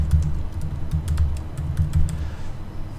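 Rapid typing on a computer keyboard, a steady run of light key clicks close to the microphone with no speech.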